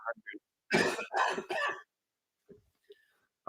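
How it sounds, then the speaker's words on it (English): A person coughs three times in quick succession, close and fairly loud, during a live immigration question-and-answer stream; a few faint short sounds come before and after. "let me try to mute this while I cough"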